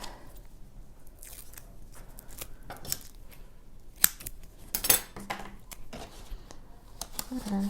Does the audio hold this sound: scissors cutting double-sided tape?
yes